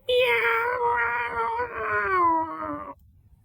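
A person imitates a cat's meow for a recorded sound effect, producing one sustained, loud, close wavering call lasting about three seconds with a slowly falling pitch, then cutting off to near silence.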